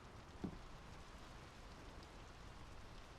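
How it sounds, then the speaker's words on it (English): Steady rain from the Draugen video game falls continuously across the scene as a dense, even hiss of drops, with one brief soft knock early on and no voices. "The rain's picking up."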